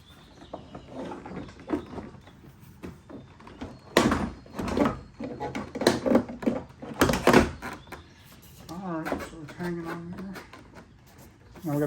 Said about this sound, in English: and now we will hang the door.